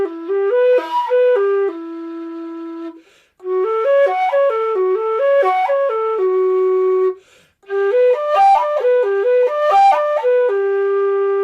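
A low D whistle plays a warm-up exercise in three clean phrases of quick paired notes, each run ending on a held tone, bright and close with short pauses between, no talking.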